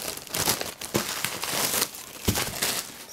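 A plastic shopping bag from a book order crinkles and rustles continuously as books are unpacked, close up, with several sharper crackles breaking through the steady rustling.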